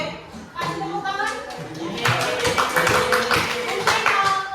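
Clapping from a classroom group breaks out after a short pause and builds into steady, fairly loud applause, with voices talking over it throughout.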